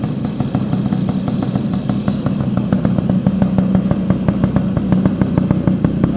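A Tomos LX A35 moped with a stock Dellorto 14-12 carburetor running steadily, its small engine producing a fast, even, buzzing pulse that stays loud and close with no pauses.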